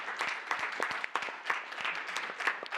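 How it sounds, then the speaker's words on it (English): A round of applause for a climate-resilience finance panel, a faint, dense, steady patter of many hands from a room audience, fairly distant, with no clear talking. "can I just get a round of applause for all those here on the podium?"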